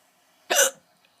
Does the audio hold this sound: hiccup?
yes